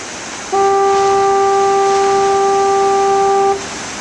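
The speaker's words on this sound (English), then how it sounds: "The foghorn doesn't bother me, but it might bother other people." A steady foghorn at a surf beach gives one loud, long, unwavering tonal blast of about three seconds over a constant roar of waves and wind, with no voices.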